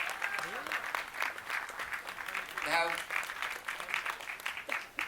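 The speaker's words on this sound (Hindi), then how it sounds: "एक बार तालियां मारी ट्रेलर के लिए।" Audience applause at a Bollywood film launch event for the trailer of Son of Sardaar 2, a steady fairly faint wash of clapping throughout with crowd noise and voices mixed in.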